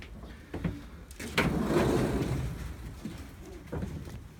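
Racing pigeons in a loft of cocks shuffle and flutter, with a loud burst of wing clatter and scuffling near the middle and softer movement before and after.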